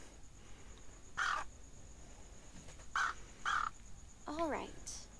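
A bird in the point-and-click game Anna's Quest gives several short, harsh crow-like caws, spaced apart and fairly close, over a quiet background hum.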